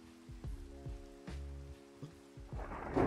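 Rain in Minecraft falls as a soft continuous hiss, with low thumping rumbles and in-game tones over it, growing louder at the end; no talking.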